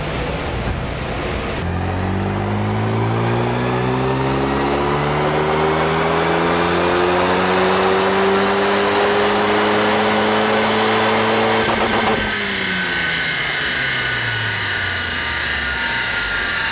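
A Renault Megane 3 RS engine on a dynamometer roars loudly, its pitch climbing steadily through the revs for about ten seconds before dropping abruptly as the throttle closes.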